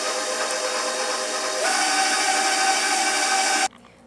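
A stand mixer works pizza dough, a steady broadband whir that steps up to a slightly higher, louder pitch partway through as the speed is raised, then cuts off abruptly near the end.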